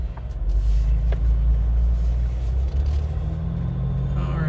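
A 2021 Jeep Wrangler Turbo Diesel pulls away, its engine giving a loud, deep, steady rumble close by from start to finish.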